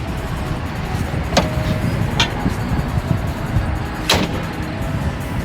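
A turbocharged Honda Civic cruises at night on the outskirts of Chihuahua, its steady low engine and road drone continuous throughout, with a few brief sharp clicks or hisses rising above it.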